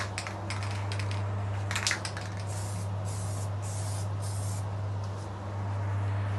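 Nitrocellulose lacquer sprays onto a guitar headstock in short, repeated hissing bursts close by, over a constant low electrical hum, with no talking.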